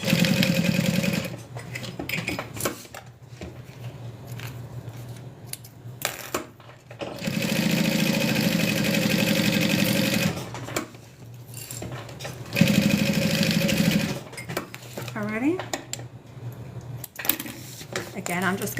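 Sewing machine stitching a fabric wristlet, several runs of fast whirring stitches that start and stop, with a person talking in the gaps between runs.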